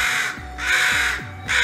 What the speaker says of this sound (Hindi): कौवा लगातार गाना गए ही जा रहा था।